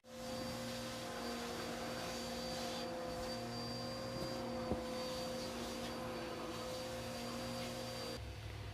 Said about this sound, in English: That vacuum.